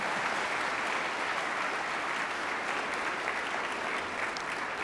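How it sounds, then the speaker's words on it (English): Steady, dense applause from a large crowd at a NASCAR championship celebration, loud and unbroken throughout with no clear voices over it. "I'm gonna give my wife a round of applause."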